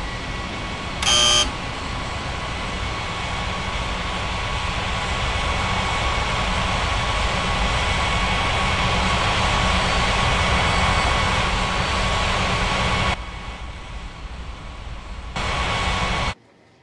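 An airliner taxiing to the runway in the Unmatched Air Traffic Control game, a steady loud engine drone with a tonal whine, briefly interrupted by a short beep early and dropping off near the end.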